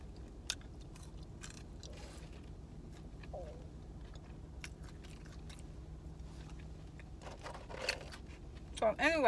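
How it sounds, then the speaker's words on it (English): Someone eating cheese fries from Shake Shack, with soft, close chewing and biting sounds at a low level over background chatter and a few scattered clinks. "I haven't even finished eating my cheese fries."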